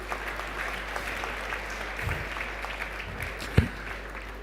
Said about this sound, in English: Can we make the applause collaborative?